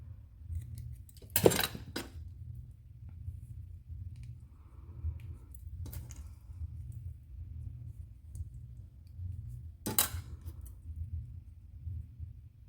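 A few sharp scissor snips cutting paper at irregular intervals, close and fairly quiet, over a low steady background hum.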